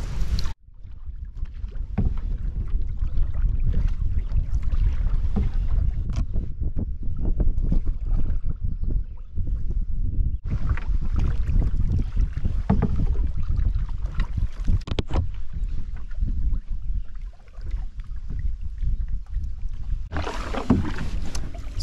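A canoe is paddled across a blustery lake under strong wind buffeting the microphone, with soft repeated water strokes and splashes running through a steady windy roar.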